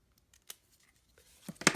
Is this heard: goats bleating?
no